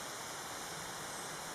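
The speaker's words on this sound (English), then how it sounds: "you can probably hear the waterfalls down in front of me" Waterfalls rush steadily below a mountain at sunrise, a constant broadband roar heard from a short distance with no voices.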